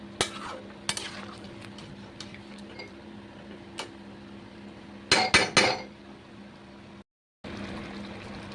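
Chicken marinated in yogurt simmers in a pan, a quiet steady bubbling hiss with sharp spoon taps and a short burst of clattering stirring, then a brief gap of silence before the simmer resumes.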